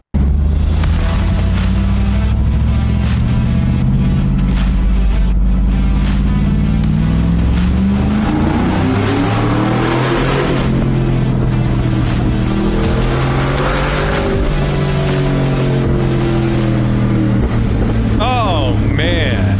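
A voice imitates revving car engines, rising and falling pitched roars that sweep up and down, with a brief squealing flourish near the end.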